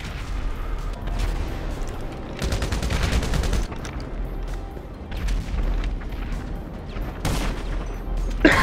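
Video game gunfire and explosions from a grenade launcher, with rapid bursts of shots and heavy booms rolling continuously throughout, a dense loud fusillade with a sharp blast near the end.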